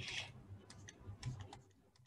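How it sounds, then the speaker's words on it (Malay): Calculator keys pressed in a few quiet, light clicks spread across a short stretch, faint and close, with no voices. "So guna kalkulator tekan."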